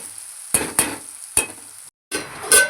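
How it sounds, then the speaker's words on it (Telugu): Ginger paste being stirred in a pan for egg curry, with several distinct spoon scrapes against the metal over a soft, steady sizzle, then a short break before a final scrape. "అల్లం పచ్చి వాసన వేయటాలకు మంచిగా కలుపుకోవాలి."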